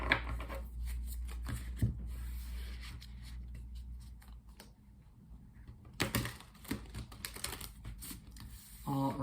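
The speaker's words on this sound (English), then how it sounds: "do some shuffling so we can pull 7 tarot cards" Close-up riffling and flicking of tarot cards in bursts, with a soft papery shuffle settling between sharper card snaps.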